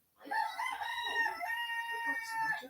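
A small silkie bantam rooster crows once, a high, thin, drawn-out call lasting a couple of seconds, close by against a quiet background.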